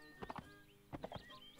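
Horse hooves clip-clopping in the Mount & Blade: North & South battle game, three short clusters of quiet, close hoof thumps spread across under faint background.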